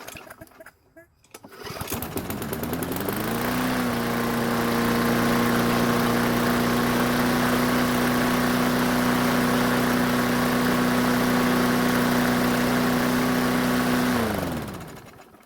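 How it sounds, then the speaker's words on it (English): After a few seconds of starting noise, a Bolens lawn mower engine runs at a high, steady, loud drone for about ten seconds, then winds down toward the end. "I'll have to unlock the throttle and try that again."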